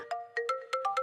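A phone ringtone plays a quick run of bright, melodic electronic notes in a short rhythmic pattern. It is clear and alone, with no voices.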